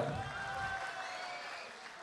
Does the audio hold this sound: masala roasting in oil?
no